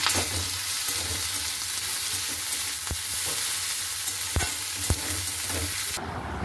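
Okra hitting hot oil tempered with nigella seeds, a steady close sizzle and frying hiss with a few sharp clinks of a stirring utensil, heard alone without talk.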